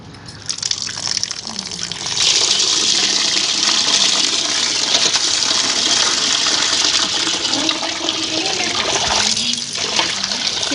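Running water gushes steadily over raw mutton pieces being washed in a kitchen, a continuous loud splashing stream that lasts throughout with slight changes in flow.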